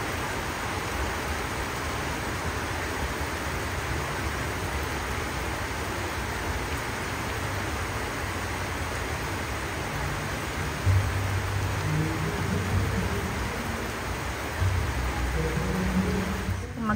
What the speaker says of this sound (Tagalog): Napaka-relaxing yung tunog ng ulan.